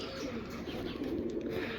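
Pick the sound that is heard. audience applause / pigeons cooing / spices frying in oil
pigeons cooing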